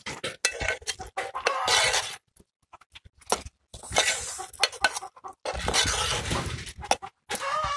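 Wild Konkan mushrooms being mixed with salt in a bowl, with quick irregular clinks and scrapes from a utensil against the dish, separated by brief silences, fairly soft and close.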